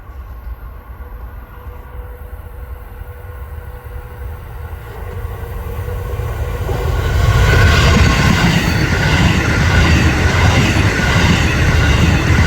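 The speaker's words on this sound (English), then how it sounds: "Here's one of Amtrak's brand new NEXTGEN ACELAs." A new Amtrak NextGen Acela high-speed train passes at Perryville, Maryland, its rushing roar and rail clatter building from a distant rumble to a loud, close, sustained pass with no talk.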